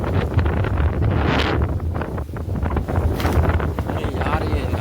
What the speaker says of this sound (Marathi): वारो बघा सुटतो.